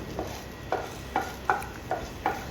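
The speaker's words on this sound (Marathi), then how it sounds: "आता हे व्यवस्थित आपण आता परतून घ्यायचं" Garlic, green chili and bay leaf being sautéed in a kadhai: a soft sizzle with regular scraping stirs of a spatula, about five strokes spread evenly, close and fairly quiet, no talking.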